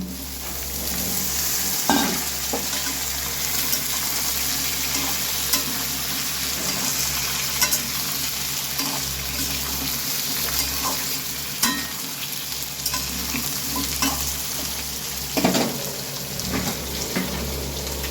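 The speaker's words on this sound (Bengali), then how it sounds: "এবার কেটে রাখা কুমড়ো অ্যাড করছি।" Chopped pumpkin fries in a pan for a curry with hilsa fish head, chickpeas and potato, giving a steady close sizzle throughout with intermittent scraping and clanking stir strokes from a utensil against the pan.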